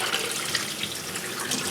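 Tap water running in a close steady stream while sprouting peas are rinsed in a sink, with a continuous splashing hiss and no speech.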